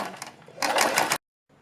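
A sewing machine stitches a kurti neck strip in quick bursts, a brief burst of rapid clattering that grows louder, then stops abruptly before a faint restart.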